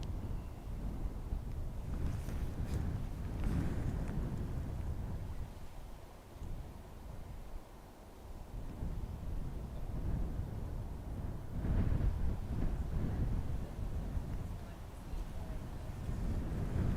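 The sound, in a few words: strong wind gusting up to 31 knots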